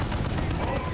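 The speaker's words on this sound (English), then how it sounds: "Another barrage!" An artillery barrage in Dawn of War 2 rumbles as a thick, continuous burst of booming gunfire, loud and close, filling the whole brief moment.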